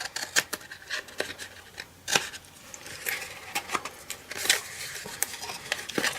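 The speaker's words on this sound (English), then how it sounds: "Bring in my big scissors, I think, and you just want to cut all these away." Big scissors snip through paper panels of a Halloween treat box craft, with repeated close, crisp cuts at an uneven pace and light paper rustling between them.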